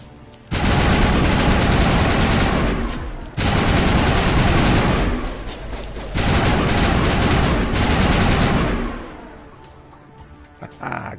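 Loud gunfire from a Stinger pistol in the Mass Effect video game, fired in three long sustained bursts with brief gaps between them, then fading to quiet at the end.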